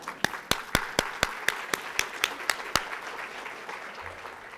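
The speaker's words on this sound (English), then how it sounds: "Let's give a round of applause." At a mayor's small business conference, sparse applause comes as evenly spaced, sharp claps in a steady beat, about a dozen of them, before trailing off into faint room noise.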